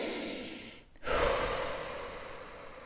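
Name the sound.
deep breath during sophrology relaxation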